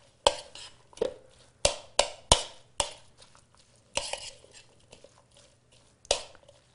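Burger ingredients for sun garden burgers being mixed together in a bowl, a series of sharp, separate knocks and scrapes, about ten in irregular rhythm, close and fairly loud in a quiet kitchen.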